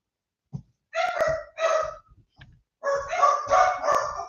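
Dogs bark at an arriving postman in short repeated bursts, first a few single barks and then a longer run of harsh barking, fairly close by with quiet gaps in between.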